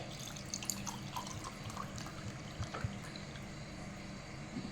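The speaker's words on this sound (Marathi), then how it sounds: "यामध्ये मी थंड पाणी घेत आहे।" Cold water pours steadily into a glass close by, with a continuous trickling splash and a few louder drips.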